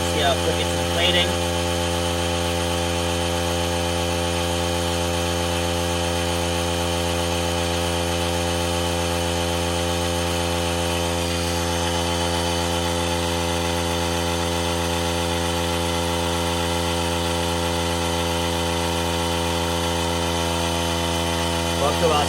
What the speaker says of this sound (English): go ahead and fire this thing up and see what we got